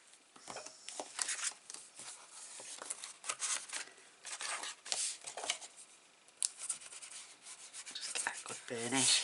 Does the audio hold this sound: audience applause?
no